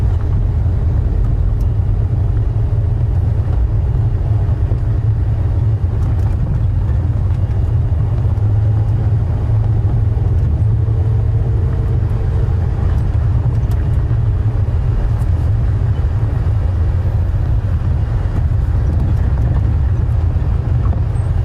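A safari game-drive vehicle rolls along a white sand road in the bush, giving a steady, continuous low engine rumble with soft road noise throughout and no talking.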